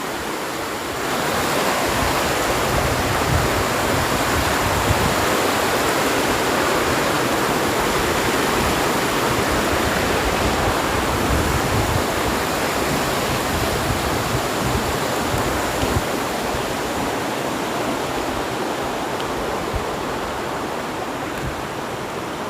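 A Konkan river rushes and gurgles beneath a bridge in a valley ringed by hills, a dense, steady roar of flowing water that stays close and constant throughout, with no voices.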